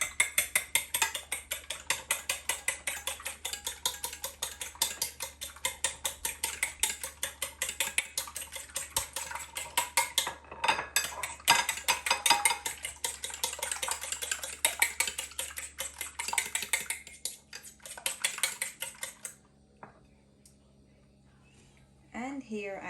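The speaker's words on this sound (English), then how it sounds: "I've added my 2 eggs in a bowl and I'm gonna whisk this up now" Two eggs are whisked in a bowl with a fast, even clatter of strokes for most of the time before stopping, close and fairly loud.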